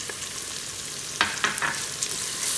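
Green chilli and ginger garlic paste sizzle in hot oil in an Instant Pot for bagara rice, a loud, close, continuous hiss with brief spatter bursts as the paste hits.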